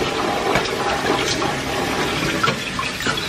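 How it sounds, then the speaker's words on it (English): Cold tap water runs steadily as food is rinsed and moved around, a continuous close splashing rush with no talk. "So I like to rinse them with cold water, obviously."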